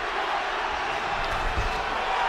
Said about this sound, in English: Listen to this sold-out crowd.